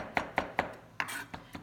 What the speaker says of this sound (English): Just gonna chop up some capers for that briny kind of taste.